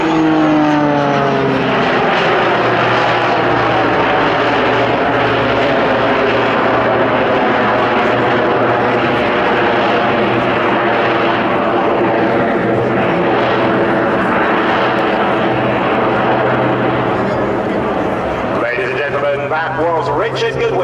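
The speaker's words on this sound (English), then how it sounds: "He flies towards us, pulls up and climbs up towards the clouds." A Jet Pitts S2S aerobatic plane roars loudly and steadily as it climbs away at the 2024 Sanicole airshow, its engine noise filling the whole stretch while a commentator talks over it.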